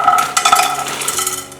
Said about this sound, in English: we're going to just toss all that into the pan